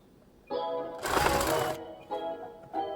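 A sewing machine stitches the bottom hem of a kimono, with a short run of rapid stitching followed by a few brief bursts and handling noises, close and fairly quiet.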